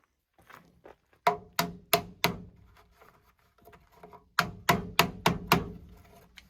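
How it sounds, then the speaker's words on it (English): Hammer strikes while building an elevated ground blind platform outdoors: sharp, close blows in two quick bursts of four to six hits, separated by quieter scattered taps. "Hammer, sir."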